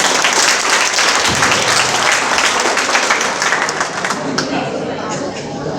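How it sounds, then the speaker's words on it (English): A crowd at a farewell event applauds after a dance performance, a loud, dense wash of clapping that holds steady and then gradually thins toward the end. "So give a round of applause for Aniket sir."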